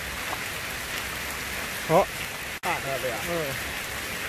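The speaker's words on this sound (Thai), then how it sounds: "บรรยากาศฝนตกในป่าในห้วยในดอย" Steady rain patters throughout in a mountain forest, a dense hiss of drops falling on foliage, with a voice speaking briefly over it.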